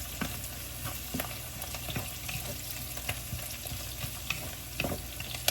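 Chilies sizzling in a pan for spicy chicken pork adobo, a continuous crackling fry with frequent small clicks and scrapes of stirring, close and without talk.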